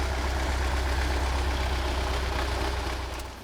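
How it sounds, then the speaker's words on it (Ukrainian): The sole working tractor among the ruins of Dovhenke village in Kharkiv region runs nearby with a heavy, steady, rumbling idle, then fades slightly toward the end. "посеред руїн з одного з подвір'їв доноситься рев єдиного робочого трактора"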